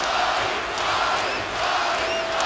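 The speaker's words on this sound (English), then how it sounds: "the crowd just erupting" Dense, roaring crowd at a college basketball game between Arizona State and Arizona, a loud sustained cheer filling the arena with overlapping shouts and no pause.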